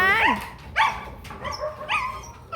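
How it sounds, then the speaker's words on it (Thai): A dog barks near a flooded house. It gives several yelping, whining barks spread across the moment, fairly close, with faint background noise. "ไอ้ไอ้หลงก็เห่าเนี่ย"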